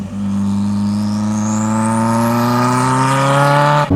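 A Renault R5 Turbo 2 engine revs hard and steadily climbs in pitch for several seconds, loud and close, with the pitch rising throughout the rev.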